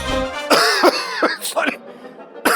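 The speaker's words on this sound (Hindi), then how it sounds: "तुम्हारी खांसी बढ़ती जा रही है" A person coughs several times in quick succession, close and loud, with a throaty, rasping quality, in a TV drama scene.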